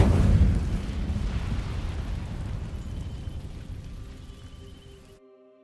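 The Incendio fire spell in Hogwarts Legacy igniting dry vines: a heavy whooshing burst of flame that rumbles loudly at first, then crackles and slowly fades over several seconds before cutting to near silence.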